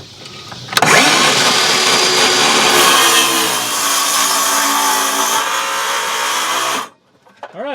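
A small DeWalt power saw cuts steadily at close range, its loud whining buzz running for about six seconds with a slight drop in pitch midway before the blade winds down and stops.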